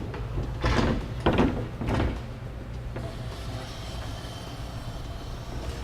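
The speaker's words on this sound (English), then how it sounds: "Now we'll go ahead and place our first half of the ladder rack on our rails." A Thule TracRac SR sliding ladder rack half set onto the bed rails of a full-size pickup truck, giving three close metallic clunks and scrapes in the first two seconds, then a steady low hum.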